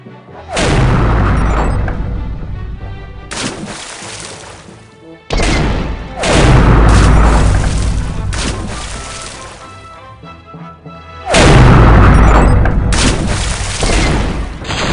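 Three loud, booming cannon blasts from the video game The Curse of Monkey Island, each sudden and heavy, followed by a long rumbling decay before the next shot.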